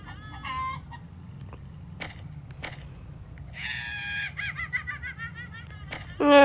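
Chicken clucking in short bursts and a few rising calls, fairly close, over a steady low background rumble, with a louder squawk at the end.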